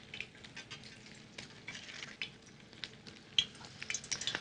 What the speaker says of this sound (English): There, that sizzle is good.